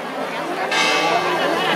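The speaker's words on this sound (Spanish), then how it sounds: "Y una vez que termine sí que voy a empezar yo con la campana" A bell rings for children's New Year's chimes at a public event in Guadalajara, its tone sustained and bright against crowd chatter and a speaking voice.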